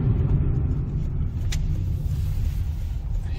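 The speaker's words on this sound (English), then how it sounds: "Okay, I'm gonna park my car here." A car engine rumbles steadily up close as the car drives in and parks at a gasoline station, with a low, continuous road drone and no talking.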